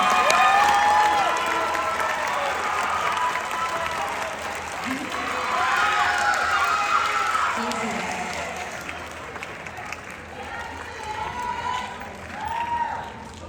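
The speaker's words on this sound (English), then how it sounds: "Everyone, round of applause, round of applause." Applause from an audience at a band awards ceremony as first-year members head to the stage, a broad, sustained clatter of clapping with scattered cheers and voices mixed in, swelling and easing over the span.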